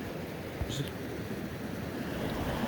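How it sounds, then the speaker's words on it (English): Water rushes steadily through a gold sluice box set up at a stream while prospecting, a constant close wash of flow with brief wind buffeting on the microphone. "I've got the sluice box set up right here, got a really good flow going."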